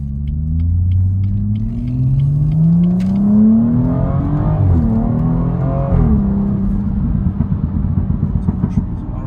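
A 2017 BMW 440i M Performance rated at 360 hp accelerates while driving, its engine climbing through rising revs with quick gear changes and a loud, close rumble, then settling into steady cruising.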